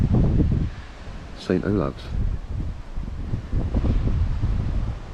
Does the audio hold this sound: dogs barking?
no